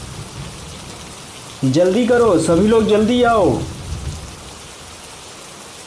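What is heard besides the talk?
heavy rain with thunder in an animated story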